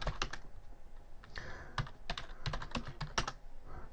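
A password is typed on a computer keyboard in quick irregular bursts of crisp, close key clicks over a faint background hum.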